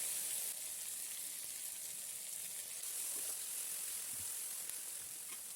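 Spice paste of cumin, coriander and dried chilli hisses in hot oil with bay leaves, nigella, salt and turmeric for fish kalia. A steady, close, even sizzle runs throughout with no pauses.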